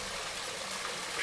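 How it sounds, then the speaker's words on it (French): A forest waterfall pours onto a pool at night, giving a steady, dense, hissing rush of splashing water, fairly soft and even throughout, with no voices. "C'est les notes que fait la cascade sur l'eau."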